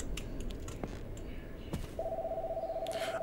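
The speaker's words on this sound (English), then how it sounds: "And the phone's ringing." A telephone rings in the horror game Confabulation Homestead, a steady electronic ring tone starting partway through and holding to the end over a low background rumble with faint clicks.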